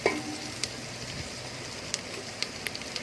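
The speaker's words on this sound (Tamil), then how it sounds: "நல்லா வெங்காயம் வந்து நல்லா வணங்கி வந்துட்டுருக்குது" Onions frying in oil with turmeric for a sardine curry: a steady, soft sizzle and crackle with occasional sharper pops and spatters, heard up close at low volume.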